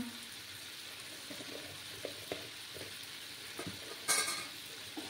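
Spices being stirred and sautéed with papaya in a pan for a vegetarian papaya and soybean curry, a steady soft sizzle with scattered scraping stirs and a louder clatter near the end.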